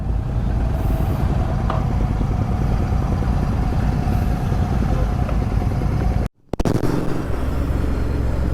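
Loud, continuous engine drone of eleven motorcycles riding in a line, with a sharp brief dropout near the end before the rumble resumes.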